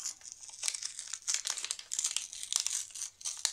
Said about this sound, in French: Ensuite, on va ouvrir l'enveloppe de chez La Fée du Scrap.